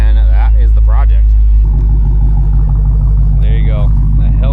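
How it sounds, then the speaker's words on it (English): A stock Dodge Charger Hellcat engine burbles at idle from behind the car, a deep steady low rumble throughout, with a voice talking over it early on and a brief higher note later. "The Hellcat burble from behind."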